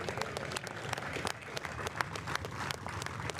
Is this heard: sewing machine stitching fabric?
no